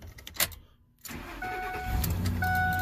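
A 2007 Ford F-350 pickup with a 5.4L engine cranks briefly after a short knock, catches, and settles into a steady close idle with a faint tonal whine, no voices over it.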